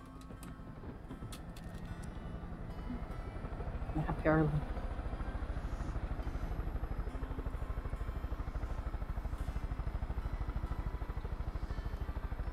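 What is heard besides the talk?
helicopter flying in the video game Far Cry 5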